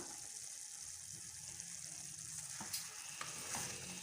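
Egg thokku frying in oil in a pan, a soft steady sizzle with a couple of faint stirring taps, quiet and close.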